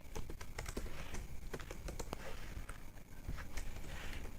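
Quiet, close tapping on a computer keyboard, with irregular key clicks and quick presses of shortcut keys, heard without any talk over it.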